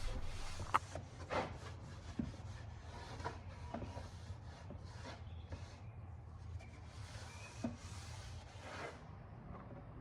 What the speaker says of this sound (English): a little Howard's Feed and Wax to refresh the drawers